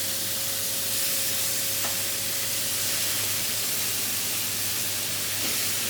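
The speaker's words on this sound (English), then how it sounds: "We'll just let these sear for another few minutes on this side." Cajun chicken sears in a hot pan with a steady, soft hiss of sizzling fat that continues evenly throughout, fairly quiet and with no talking.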